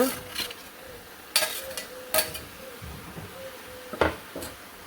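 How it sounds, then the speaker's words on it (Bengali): A spoon stirs chicken curry with salt and dried chilli paste in a cooking pot, a few separate scraping strokes over a faint sizzle. "তো হালকা একটু নাড়াচাড়া করে দিই"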